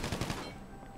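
Rapid gunfire bursts in a GTA roleplay game, a quick run of three or four close shots followed by a fading ringing tail, with no voices.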